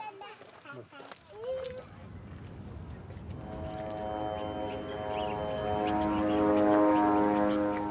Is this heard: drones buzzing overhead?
yes